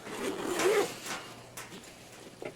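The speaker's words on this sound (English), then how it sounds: "We have a zipper over here" Zipper on a travel laptop backpack being undone, a close, raspy tearing run of about a second followed by a few softer short zip strokes and fabric rustle.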